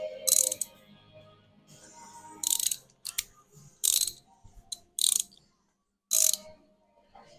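Socket wrench ratcheting as a bolt is torqued to spec, several quick bursts of sharp clicking separated by pauses, close and crisp against a quiet background.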